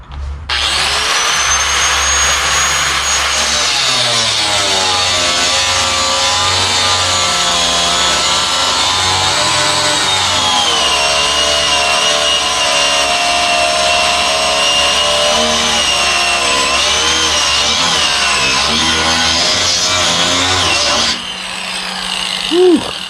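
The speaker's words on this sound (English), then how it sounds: "Now I'm actually going to put a load on this grinder and let's see what happens." Angle grinder powered from an OUPES 1200 watt power station, running under heavy load for about twenty seconds with a loud, steady high whine that cuts off near the end.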